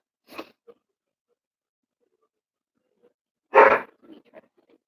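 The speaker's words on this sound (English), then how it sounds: "this was the only video I got her barking" Pet dog Chloe barking in a phone recording, two isolated barks, a short faint one and then a louder close sharp bark, separated by near silence.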